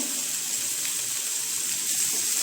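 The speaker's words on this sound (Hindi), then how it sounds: "चिकन हम इस तरह से फ्राई कर लेंगे।" Chicken pieces frying in a pan over medium-high flame for Kashmiri chicken masala, a constant dense hiss and crackle of hot oil, steady and close with no talk.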